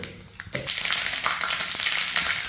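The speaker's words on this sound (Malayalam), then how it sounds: "1 ടീസ്പൂൺ കടുക് ഇട്ട് കൊടുക്കുന്നുണ്ട്." A teaspoon of mustard seeds splutters and pops in hot oil, a dense, close crackling that starts abruptly and keeps sputtering steadily.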